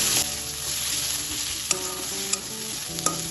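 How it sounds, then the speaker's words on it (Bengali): Ground spices, among them turmeric, cumin and black pepper powder, sauté in hot oil for a Bengali jhinge malaikari. A steady, close sizzle carries a few sharp clicks of stirring. "সব কিছু তেলের সাথে আবার একটু কষিয়ে নেব।"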